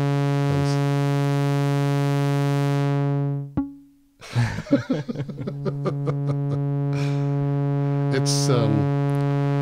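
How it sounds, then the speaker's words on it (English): A Buchla 281e synthesizer module rings out a quick run of bright, plucked pings that tumble and decay over a steady sustained synth drone, close and clear, with a single brief spoken word near the start. "There's a nice ping in there that I like a lot."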